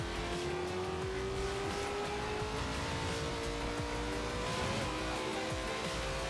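A Porsche racing in the video game Forza Horizon 2, its engine droning and revving steadily with rising pitch, continuous and moderately loud with rough bumps underneath.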